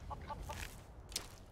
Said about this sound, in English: Well, there's a chicken.